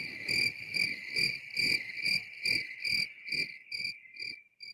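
Crickets chirp in a steady, pulsing rhythm of about ten evenly spaced trills that fade slightly toward the end, clear and alone with no voices.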